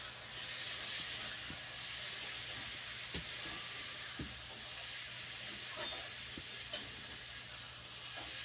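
Potatoes simmer in a pot of water on a gas stove, giving a faint, steady hiss broken by soft occasional bubbling pops.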